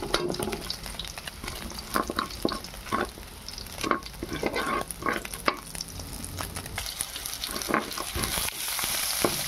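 Chicken sautéing in a pan until light brown for sotanghon soup, sizzling steadily while a utensil scrapes and stirs in repeated sharp strokes, close and clear with no talking.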